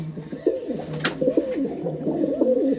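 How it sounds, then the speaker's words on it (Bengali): A pair of Madras breed pigeons coo repeatedly in soft, rolling throaty calls, close by and steady throughout, with a brief sharper note partway through. "খুবই ভালো ওড়ানের পায়রা এগুলো দুটো জোড়া একদম একই সেম পায়রা"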